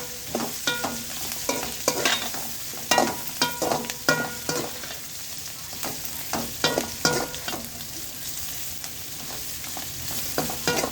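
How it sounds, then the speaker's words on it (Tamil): Tamarind is stirred and sautéed in a pan for pirandai chutney, with a steady sizzle and repeated scraping stirs of a spoon against the pan, close and moderately loud with no talking. "புளி போட்டு நல்லா வதக்கிக்கலாம்."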